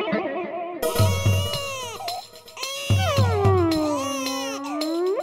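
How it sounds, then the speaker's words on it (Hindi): An infant's wailing cry plays from a television in a sitcom household, loud, rising and falling in long sustained wails with brief breaks, accompanied by rhythmic background music beats. "तो फिर ये छोटे बच्चे के रोने की आवाज क्यों आ रही है?"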